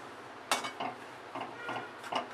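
A spoon scrapes and stirs besan (gram flour) with ghee in a pan, giving several faint metallic scrapes and clinks in an irregular rhythm, with no talking.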